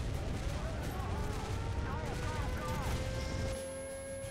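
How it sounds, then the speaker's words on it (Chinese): A flashbang grenade goes off in the shooter game Aim Online amid a loud wash of blasts and gunfire, then a thin, steady high-pitched ringing tone takes over. "干哪个白痴丢我那个闪光弹啊"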